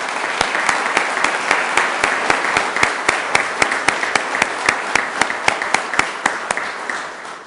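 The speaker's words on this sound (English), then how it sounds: "Let's give them a round of applause." A crowd at a city council installation ceremony applauds its council members, a loud, steady wash of many hands with sharp, rhythmic claps standing out near the front throughout.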